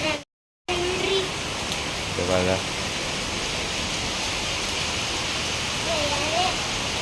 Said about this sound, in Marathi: एवढा जोरात पाऊस यायला लागले आणि काळे ढग आले